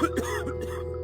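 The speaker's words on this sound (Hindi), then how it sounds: "अचानक अंदर वाले कमरे से खांसी की आवाज आई।" A single short cough, made as a horror-story sound effect and coming from an inner room, opens with a sharp burst and then trails into a brief rough throaty rasp.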